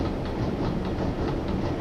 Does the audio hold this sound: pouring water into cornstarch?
no